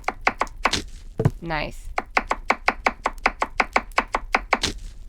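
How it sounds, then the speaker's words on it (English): Knife chopping onion, carrot and celery in a horror video game: a brisk, steady run of about twenty sharp, close knocks on a board, with a brief spoken word near the start. "chop the onion, carrot, and celery and add them"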